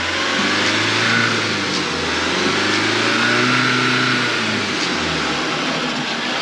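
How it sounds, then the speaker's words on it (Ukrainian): An Audi A3 engine idles and periodically revs up during hydrogen engine cleaning at a car repair shop, rising and falling in pitch, close and steady throughout. "От людина сидить, періодично підгазовує"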